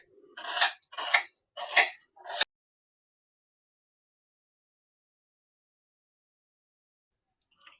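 A knife cuts through a medium-sized onion on a board in a home kitchen, making four close, crisp chopping strokes in quick succession, followed by a long stretch of silence.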